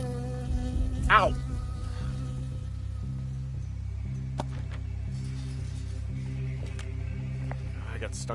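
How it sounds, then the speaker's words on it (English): A bee buzzes steadily in the Firewatch video game, a close, continuous insect drone over a low tonal game ambience, with a brief louder rise early on. "I got stung by a bee."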